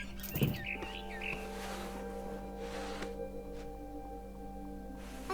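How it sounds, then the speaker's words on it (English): A barn swallow in a video game gives a few short chirps near the start, bright and close, then quieter ambient hum with occasional faint clicks. "Then I heard chirping outside my window. It was a barn swallow going back to her nest."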